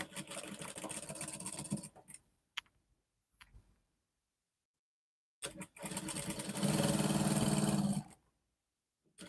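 A sewing machine stitches flare dress panels together in two close, steady bursts of rapid mechanical whirring, separated by a quiet pause with a few faint clicks, and no talking.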